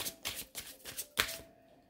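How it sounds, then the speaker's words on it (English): Tarot cards are shuffled in a series of about five quick riffling bursts, close and crisp, each a short papery flutter, ending in a sharper snap before falling quiet. "One more shuffle."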